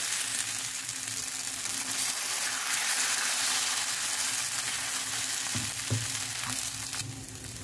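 Rice flour paratha batter spread into a hot kadhai sizzles and fries steadily, a loud, close hiss that holds for several seconds, with a few soft scraping touches near the end.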